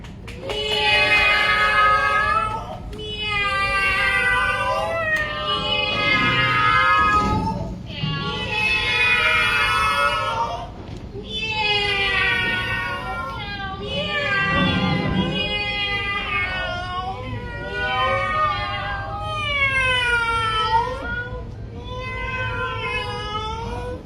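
Long, wailing, meow-like cries rise and fall in overlapping waves for over twenty seconds during a performance at a fundraiser breakfast, loud and continuous against a faint room background.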